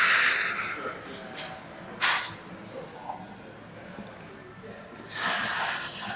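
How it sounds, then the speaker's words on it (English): Breathy exhales during a stretching rotation in a strength training session, a soft burst near two seconds and a longer airy one toward the end, close and moderately loud against quiet room noise. "Exhale."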